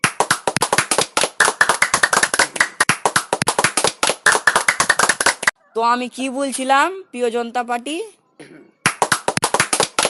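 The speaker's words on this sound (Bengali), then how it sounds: "তুমি কি বুঝলা যে তুমি হাততালি মারছো?" Hand clapping in a comic Bangla skit: fast, dense claps from several hands for about five seconds, someone speaking in the pause, then a short burst of clapping again.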